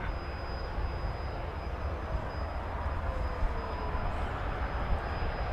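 An American Airlines airliner takes off from runway 18 left at DFW Airport, a broad, steady jet roar holding at a distance with no break.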